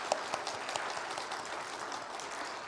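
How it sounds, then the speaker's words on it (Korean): A church congregation applauds during a Sunday worship service, a steady wash of many hands clapping at moderate, fairly distant level with a few sharper claps standing out. "우리 박수로 또 격려하도록 하겠습니다."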